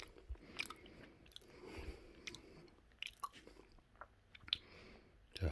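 Someone eats yellowtail belly sashimi, soft close-up bites and moist chewing sounds coming in short irregular bursts, quiet with no speech.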